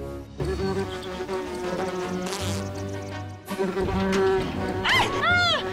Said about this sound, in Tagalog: Mga bubuyog!